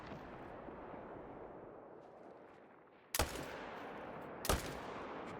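Two heavy rifle shots from a large-caliber gun in the hunting game theHunter: Call of the Wild, sharp, loud blasts about a second apart over a soft outdoor ambience.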